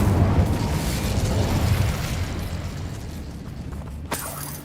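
A fire spell cast in Hogwarts Legacy gives a loud roaring, rumbling whoosh that slowly decays, ending in one sharp crack near the close, with no talk.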